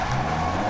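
A front-wheel-drive rally car in DiRT Rally 2.0 holds a steady, loud engine drone with tyre noise through a brief handbrake turn, no voices over it.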